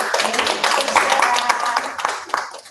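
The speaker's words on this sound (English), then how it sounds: "Let's give her a round of applause one more time." A small group claps near the end of an online coaching session, a dense patter of hand claps heard close and fairly loud for a few seconds.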